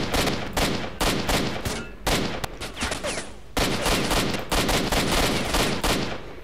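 Rapid bursts of gunfire from the video game S.T.A.L.K.E.R.: Shadow of Chernobyl crackle loudly in repeated volleys with short gaps between them, close and sustained.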